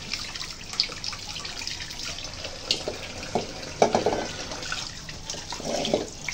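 Meat pieces rinsed under a running kitchen tap, with steady water flow broken by irregular splashes and drips as the chunks are handled, fairly close and with no talking.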